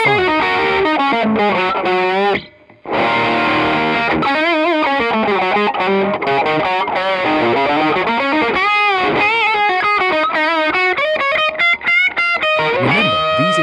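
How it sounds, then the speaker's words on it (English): Electric guitar played through a GE200 Pro amp modeler with distortion, power amp and cab modules off, giving a loud, saturated lead line with sustained bent notes and a brief pause near the start. "Another distortion sample file."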